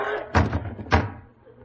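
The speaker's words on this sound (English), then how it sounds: "Sounded like someone falling against the front door." Two heavy thuds against a front door, about half a second apart, loud and close, made as a radio drama sound effect with a wooden, booming impact.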